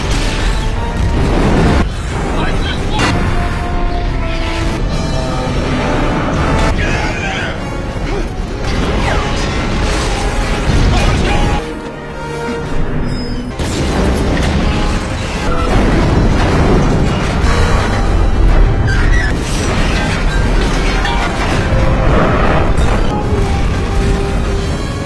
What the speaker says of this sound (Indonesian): yang menyebabkan seluruh kontainer di sana meledak beserta dengan kapalnya